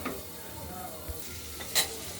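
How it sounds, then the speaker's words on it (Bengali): Green beans frying in a pan for a poppy-seed curry give a low, steady sizzle with soft stirring scrapes and a brief sharper clatter near the end, with no talk. "বিনসগুলোকে আমরা প্রথমে ভাজা ভাজা করে নিচ্ছি।"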